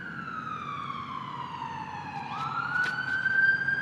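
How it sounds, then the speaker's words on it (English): An ambulance siren wails steadily at a distance across an outdoor disc golf course in Mobile, its tone gliding down and then jumping back up over faint road noise. "Good stop with the ambulance siren."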